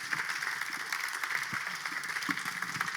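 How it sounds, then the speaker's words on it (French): A crowd applauds at a trophy award ceremony, Made In 31, as a presenter is welcomed. The clapping is a dense, steady, fairly soft wash that holds evenly throughout with no break. "applaudissements pour Julien"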